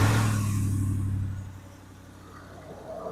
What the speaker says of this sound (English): we got this thing running pretty strong now